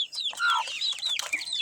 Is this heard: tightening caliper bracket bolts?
no